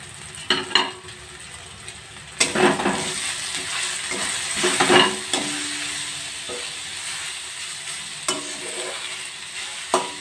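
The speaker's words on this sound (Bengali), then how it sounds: "এবার এইগুলো ভাজা সবজিগুলোর মধ্যে দিয়ে দেবো।" Strips of flour roti get stirred into fried vegetables in a pan, with a steady sizzle under repeated scraping and clattering stirs of a spatula against the pan.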